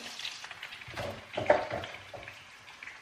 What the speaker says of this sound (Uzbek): Endi qovuramiz.